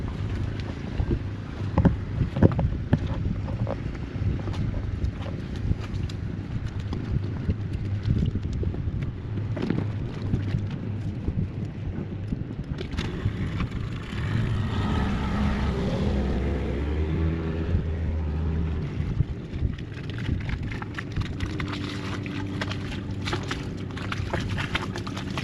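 Steady engine drone of a small dinghy outboard motoring away from and back to a sailboat, with wind buffeting the microphone throughout and no voices.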